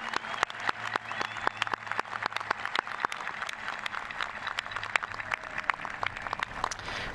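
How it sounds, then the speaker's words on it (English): Audience applause for honored scholars at a 2018 high school commencement, a steady wash of many hands clapping with distinct sharp claps standing out throughout, sustained and moderately loud with no speech over it. "Let's give all of these scholars a round of applause."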